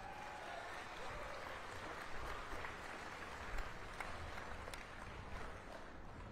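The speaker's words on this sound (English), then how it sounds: "Give yourself a round of applause." A crowd at the opening of a new city skatepark in Pensacola claps in a steady, moderately distant round of applause that holds evenly for several seconds.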